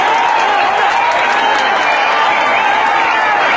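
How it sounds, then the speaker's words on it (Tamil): A crowd at a jallikattu bull-taming event in Sivaganga applauds in a dense, continuous wash of clapping and cheering, with whistles cutting through for the whole stretch. "வீரர்களை உற்சாகப்படுத்துங்கள், சீட்டியடிங்கள், கைதட்டுங்கள்"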